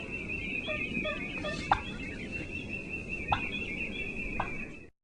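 Wild turkey hens clucking to locate each other, a few sharp isolated clucks spread across the stretch, faint and somewhat distant over a steady outdoor hiss and high insect-like tone.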